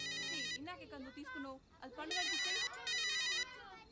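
A mobile phone ringtone chimes in repeated bright bursts, fairly loud and close, while a voice talks over it.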